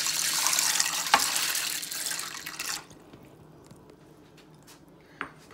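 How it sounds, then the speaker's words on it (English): Cooked beans with their liquid are poured into a cooking pot, giving a wet, rushing splash for a few seconds that stops abruptly, followed by quiet with a couple of small clinks. "I'm going to pour my beans in."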